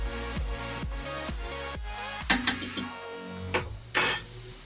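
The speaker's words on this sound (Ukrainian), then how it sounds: "Помішаємо трохи і в другу сторону." A spoon scrapes and clinks around a metal pot of simmering hemp seed bait on a low flame, with steady rhythmic strokes and a few sharper knocks against the rim.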